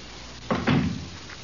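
A door closing as an old-time radio sound effect in a domestic drama, a single muffled thud-and-latch heard alone, fairly close and moderately loud.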